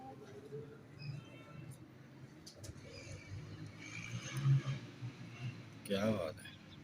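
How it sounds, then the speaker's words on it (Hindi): Kasuri pigeons coo softly and intermittently at close range, low throaty calls partly masked by ongoing conversation and light background noise. "बुरा मना रहे हैं कबूतर।"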